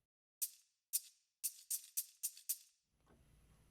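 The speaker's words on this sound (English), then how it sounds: "Tambourine shake." Tambourine from an 80s Abbey Road studio drum kit, shaken in seven bright, jingly bursts in an uneven rhythm, each ringing briefly before fading, followed by a low muffled rumble at the end.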